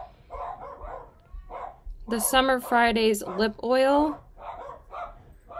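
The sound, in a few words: dogs barking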